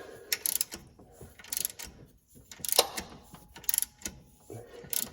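An old 8-rib drive belt creeps slowly off the pulleys of a GTO engine, making irregular scraping, ratcheting clicks in short bursts separated by brief pauses, heard close up with no talking.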